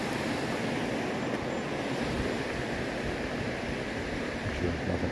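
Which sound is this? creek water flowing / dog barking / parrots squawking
creek water flowing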